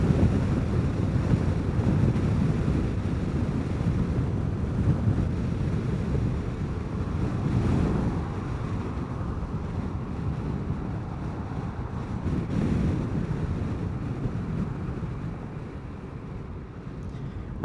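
Steady, loud wind roars and buffets a microphone outdoors, with rushing gusts swelling and easing throughout and no talk.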